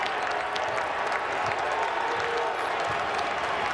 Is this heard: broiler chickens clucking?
no